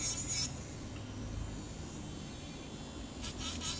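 Electric nail drill fitted with a long rocket bit filing and bevelling the inside of a long nail, a faint steady rasping whirr with brief louder hissing bursts at the start and end.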